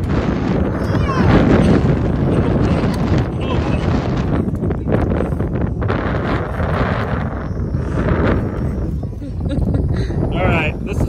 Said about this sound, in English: It's too windy, it's too crazy.